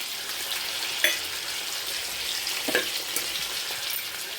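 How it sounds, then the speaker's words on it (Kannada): Vegetables for baingan bharta, including eggplant and green chilies, frying in a pan, a steady close sizzle with a few sharp clinks of stirring. "ಚಲೋ ಹುರ್ಕೋಬೇಕು."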